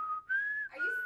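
A person whistles a short, clear note, close and alone: a steady pitch that briefly dips, then rises and holds, followed by a slightly breathier second tone.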